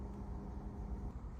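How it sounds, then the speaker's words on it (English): A low, steady rumble of a car engine drifts in from outside, faint and muffled, with no voices. "You might hear a car outside"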